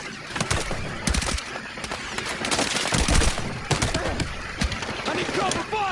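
Rapid gunfire crackles through a Battlefield 6 campaign battle, dense overlapping bursts of shots and explosions filling the scene, with shouted voices mixed in.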